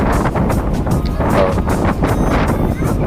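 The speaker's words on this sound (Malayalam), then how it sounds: "ഇത് ഭയങ്കര കാറ്റാണ്" Strong wind buffets the microphone at Jatayu rock, a hilltop sculpture site, roaring steadily and loudly for the whole stretch with gusty swells and no pauses.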